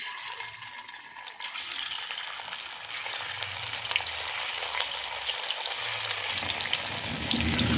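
Hot white oil in a wok sizzles and crackles steadily, growing a little louder as homemade kurkure snacks made from leftover rice fry, with no voices.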